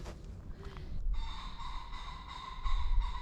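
Bird calls ring out in a sustained, tonal crowing phrase over a low outdoor rumble in the Guryong Village bamboo forest, fairly close and clear, with no speech.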